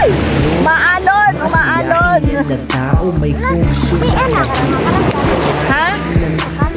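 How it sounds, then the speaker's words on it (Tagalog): Strong sea waves wash and splash around a small boat on open water, with steady surf noise and wind throughout while several people talk and exclaim loudly over it. "Malakas na yung alon."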